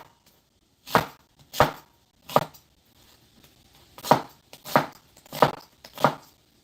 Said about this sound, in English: So I'm just rinsing off the onion, and then I'm going to just roughly cut it up.